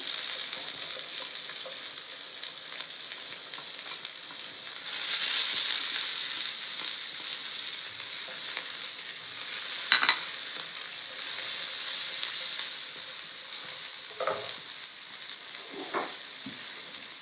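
Onion frying in oil gives a steady close sizzle throughout, swelling briefly louder as it is stirred, with a few soft clinks of a utensil against the pan and no talking.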